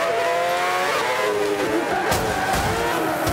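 An F1 car engine in Forza Motorsport 5 revs high and loud, its pitch climbing and dropping through quick throttle blips and gear shifts, close and dominant.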